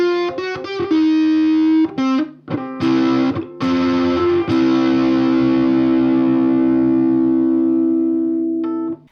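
Ukulele through a Camise US Dream overdrive pedal: a few quick strummed and plucked chords with gritty, compressed distortion, then one chord left to ring and sustain for several seconds, loud and close, with no talking.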